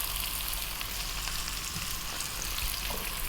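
Carrots and green beans fry over above-medium heat in a pan for a chickpea curry, with a steady, soft sizzle and faint crackle throughout, no voices.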